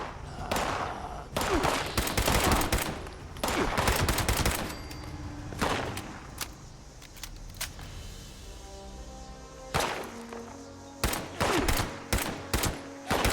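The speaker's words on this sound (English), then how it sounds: "Once the gunfire stopped for a moment" Fallout 76 gunfire: rapid bursts of automatic shots crackle in clusters, then a quieter lull with an engine-like hum before more sharp, loud single and rapid shots ring out near the end.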